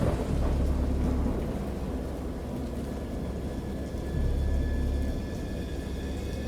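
Video game thunder: deep, rolling rumbles continue over steady rain, swelling twice into heavier booming peaks.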